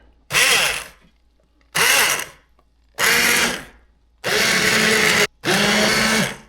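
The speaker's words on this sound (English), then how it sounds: "I don't actually use this immersion blender too often at home, but we're gonna give it a try today" An immersion blender whirs through pinto beans with Rotel tomatoes in five loud bursts, each lasting about a second, separated by short silent pauses, with a grinding, churning tone as it blends.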